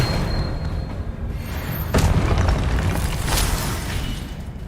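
A Confringo explosive spell blast from the video game Hogwarts Legacy bursts with a sharp boom, followed by a second blast over continuous rumbling game noise, with no talking.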